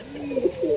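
A pigeon gives a short, soft coo close by, a brief throaty call that rises and wavers for under a second, with no voices over it.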